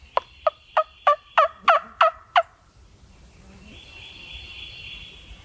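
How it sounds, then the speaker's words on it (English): A wild turkey gobbles on an Alabama ridge top in spring, a rapid run of about eight sharp, rattling pulses close by, followed by faint outdoor hiss. "I just heard a gobble."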